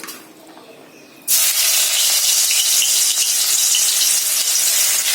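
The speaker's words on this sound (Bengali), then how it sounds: "এবার এইটাকে তেলের মধ্যে দিয়ে দেবো" Paste of two small onions and four or five garlic cloves hits hot oil after a brief quiet moment and erupts into a loud, steady sizzling hiss that continues to the end.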